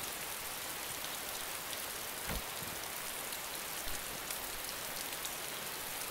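Rain falling in DayZ, an even, constant hiss of drops on surfaces with a couple of soft low thumps, no voices.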